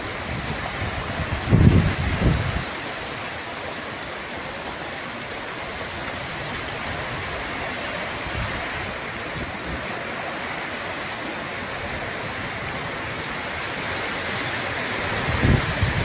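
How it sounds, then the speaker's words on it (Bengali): Heavy rain driven by wind in a village makes a dense, continuous roar of water, with a couple of brief louder thumps near the start and end. "আল্লাহ অনেক বৃষ্টি দিছে, আর বৃষ্টির সাথেও একটু বাতাসের পরিমাণটা বেশি।"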